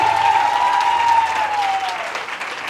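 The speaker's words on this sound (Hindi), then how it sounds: "तालियां बजाते हुए।" An audience applauds loudly with steady, dense clapping in a large hall, a sustained tone ringing under it before the clapping slowly thins.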